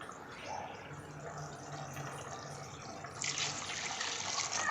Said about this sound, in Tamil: இந்த கறி வேக வச்ச தண்ணி வந்து நான் ஒரு 4 டம்ளர் ஊற்றிக்கிறேன்.